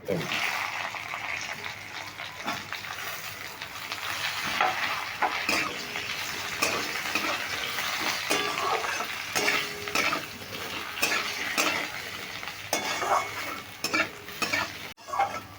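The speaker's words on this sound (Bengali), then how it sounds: "ফোড়নের সঙ্গে বেগুনটা আমি একটু ভেজে নিয়েছি" Eggplant fries with tempering spices in a pan for a Bengali shukto, a steady sizzle broken by repeated scraping stirs and clinks of a utensil against the pan, close and fairly quiet.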